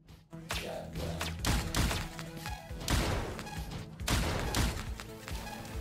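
Chunky arcade-style gunfire from upgraded weapons such as a shotgun in Berzerk Recharged, with several heavy thumping blasts and shattering impacts in quick succession over a busy electronic game soundtrack.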